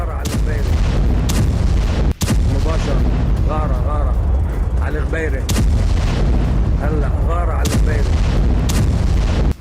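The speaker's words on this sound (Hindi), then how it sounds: "आईडीएफ ने अब दाहिया में 2 बड़े विस्फोट को अंजाम दिया है" Several loud, sharp booms of explosions from bombing in Dahiyeh, Beirut, burst at irregular intervals over a constant roar, with voices shouting and talking throughout.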